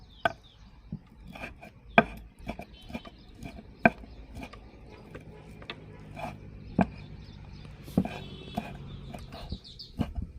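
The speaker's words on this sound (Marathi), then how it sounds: "तशीच कोळंबी आपल्याला बारीक चिरायची आणि बारीक चुरा करायचा त्याला" Prawns being chopped finely with a knife on a board, close-up sharp taps in an uneven, quick rhythm with a few louder strikes, and no talking.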